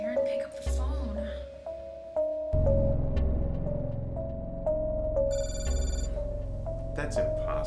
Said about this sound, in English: Come on, Darren, pick up the phone.